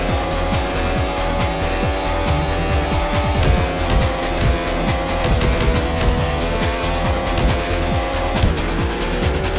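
Retro racing video game car engine roaring steadily and loud throughout, with pitch climbing and shifting as it accelerates, plus bursts of tire squeal and skidding.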